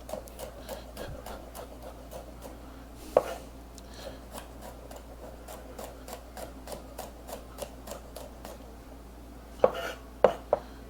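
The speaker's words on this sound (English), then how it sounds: "This I'm not dicing, I'm just slicing these." Garlic cloves are sliced with a knife on a board, a quick steady run of soft close taps with a few louder knocks near the start and end, and no talking.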